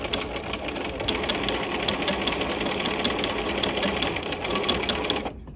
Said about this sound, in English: We're sewing, to remind you, the muslin to the canvas.